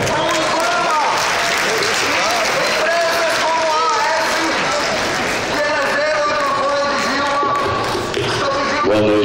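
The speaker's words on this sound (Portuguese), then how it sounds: "uma salva de palmas" Applause for the governor of Bahia from a large conference audience, dense, loud clapping throughout, with voices and cheers mixed in.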